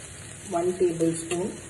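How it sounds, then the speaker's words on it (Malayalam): Ground chili paste frying in oil for a North Indian chicken curry gives a steady high sizzle, briefly overlaid by a short burst of voice near the middle. "മുളക് പൊടി ചേർത്ത് നല്ലോണം ഫ്രൈ ചെയ്തെടുക്കാം."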